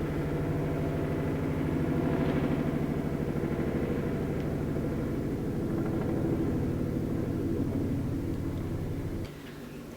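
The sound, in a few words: helicopter flying over house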